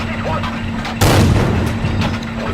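A tank gun fires once in World of Tanks, a sudden loud boom that cuts in abruptly and rolls off over a second above steady engine hum.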